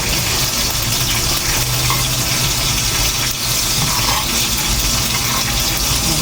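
Hot cooking oil in a frying pan, a loud, dense, continuous sizzle and spatter with a steady hiss and no talk.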